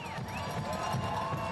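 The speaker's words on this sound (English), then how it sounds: "In front of a sold-out crowd at Centerville Bank Stadium" A sold-out stadium crowd cheers and roars before kickoff of a Rhode Island FC home opener against San Antonio FC. The dense, steady noise stays close, with whistles and shouts rising over it.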